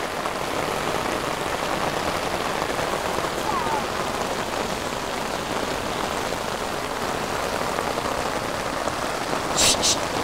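Heavy rain pours steadily during a flood at an old house in Hưng Thuận, a dense, constant roar of drops on surfaces with no breaks, and a brief faint sharper sound near the end.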